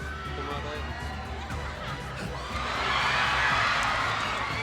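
A crowd roars and cheers at a Mobile Legends esports knockout match, the cheering swelling louder midway under an excited commentator's talk.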